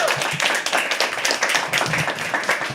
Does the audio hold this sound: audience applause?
yes